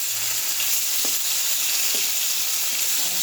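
Fish frying in a pan of hot oil gives a continuous, even sizzle with faint crackles, heard up close and steady throughout with no voices.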